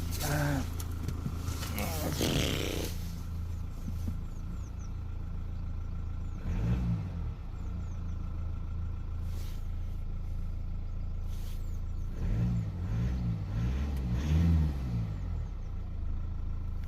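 A Mercedes-Benz car with a faulty accelerator pedal, its engine warm and settled at a steady low idle hum with slight swells, while voices talk nearby.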